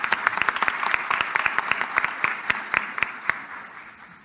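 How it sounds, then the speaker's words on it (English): Applause from a cybersecurity conference audience, a steady patter of many hands clapping at close range that holds for several seconds and then gradually thins and fades out. "if we could have a quick round of applause for the team that's put this together"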